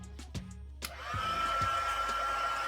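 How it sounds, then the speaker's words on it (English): Handheld heat tool switching on to dry paint on a small Dollar Tree decor piece, a few handling knocks first, then a steady close whooshing blower roar with a thin whine that holds to the end. "I'm using my heating tool to dry this."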